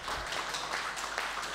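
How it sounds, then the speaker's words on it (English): Crowd applause for a jockey after his first Group 1 win at the Raffles Cup horse race, a steady, even wash of clapping sustained throughout without breaks. "Give him a big round of applause"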